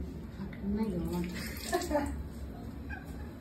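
Tomatoes and green chillies are rinsed in water in a kitchen, with splashing and running-water sounds beneath a person talking.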